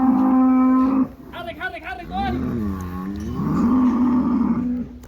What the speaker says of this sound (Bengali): রং মারা গরুগুলো দেখা যাচ্ছে এই দিকে যাবে সবগুলো, আর রং ছাড়া গরুগুলো এই ঘরে